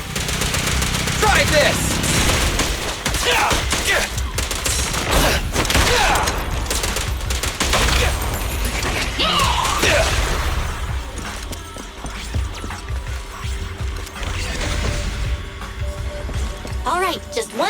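Gunshots in Zenless Zone Zero: rapid bursts of gunfire with impacts and mechanical clatter alongside game music, loud and dense for the first ten seconds then thinning out, with a voice speaking briefly in between.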